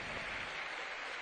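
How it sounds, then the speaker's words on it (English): Basketball fans applaud at a British league game, a dense, even wash of clapping from a distant crowd, faint and continuous without a break. "It's a round of applause from the fans."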